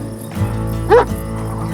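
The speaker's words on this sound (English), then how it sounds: "You just get within its sniffing zone and it starts barking at you" A dog in the Desperados 3 video game lets out one short bark over a steady game soundscape of music and ambience, with no speech.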